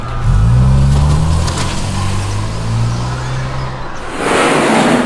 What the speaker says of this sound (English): Hart starting up the vehicle and quickly spinning it out of the space and away from the dust cloud at best speed